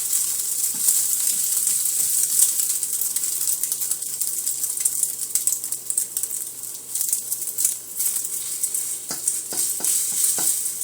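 Egg for an omelet frying in a pan, a steady close hiss and sizzle with faint crackles running throughout, no talking.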